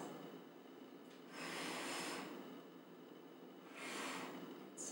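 Two long, soft exhales during a Pilates exercise, each a breathy rush of air swelling and fading against faint room hiss.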